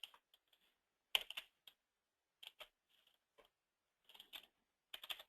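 Keys clatter on a computer keyboard as a company name is typed into a form, coming in quick bursts of clicks separated by short pauses, close and fairly quiet with no talking.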